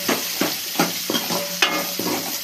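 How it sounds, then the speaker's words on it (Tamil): Onions and curry leaves sautéing in hot oil for a potato kurma, loud close sizzling broken by a regular rhythm of spatula strokes scraping the pan about every half second. "கருவேப்பிலையும் தூக்கி போட்டு ஒரு பெரிய சைஸ் வெங்காயத்தையும் போட்டாச்சு. அப்படியே நல்லா எடுத்து நல்லா வதக்கிடுச்சு"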